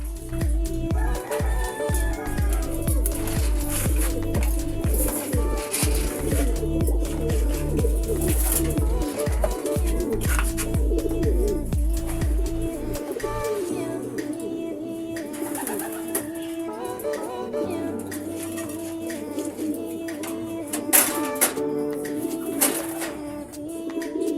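Racing pigeons at a derby loft during the South Derby race in Quezon and Camarines Sur coo steadily and loudly up close, their throaty calls pulsing in a continuous rhythm throughout.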